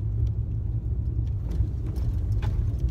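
Car cruising on the road on the way into Boulder after a long drive, heard from inside as a steady low engine and road rumble with no talking.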